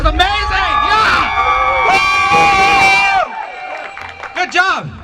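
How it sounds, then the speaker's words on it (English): A crowd at a Saturday night church youth Perunnal celebration for the Sacred Heart of Jesus cheers loudly, with shouted whoops and excited voices rising over a dense, sustained roar, then easing off near the end. "Let's give a round of applause to Perunnal and Dave."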